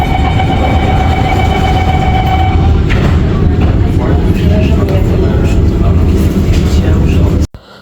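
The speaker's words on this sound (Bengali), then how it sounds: "শহরে মেট্রো করে, আমরা মেট্রো করে আসছি" A ride aboard a Singapore MRT metro train carries a loud steady rumble with a whining tone early on, a voice talking over it, and the sound cuts off abruptly near the end.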